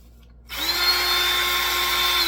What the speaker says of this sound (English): drill a hole in it